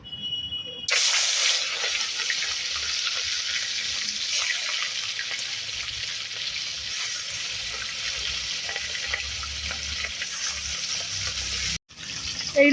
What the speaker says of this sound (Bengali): গরম তেলে মাছ ছেড়ে দেব।